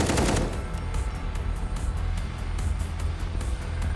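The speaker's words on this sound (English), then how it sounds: "I'm in the middle of a shooting here." Gunfire in the VR stealth shooter Panther VR, a loud, steady roar of rapid shots and booming rumble that stays dense throughout, with a sharp burst at the start.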